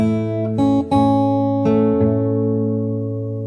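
Fingerstyle guitar plays the opening of a song, a handful of gently plucked notes against a sustained low string, nearby and clean, fading out at the end with nobody speaking.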